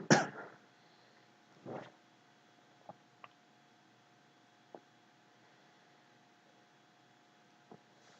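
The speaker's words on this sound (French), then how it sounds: "je vais tousser" One sharp cough opens the clip, followed by a second softer cough, then a few faint clicks over a quiet hiss.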